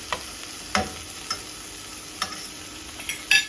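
Soft sizzling of food frying in a pan under a few brief stirring scrapes and light taps of the spoon, spaced irregularly; fairly quiet and close, no voices.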